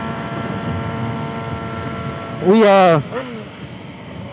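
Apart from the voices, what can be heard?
loud car exhaust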